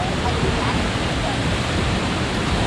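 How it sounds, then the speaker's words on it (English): A Hawaiian waterfall roars in a steady, dense hiss and rush, loud and close, a continuous wash of falling water with no breaks. "Listen to the waterfall."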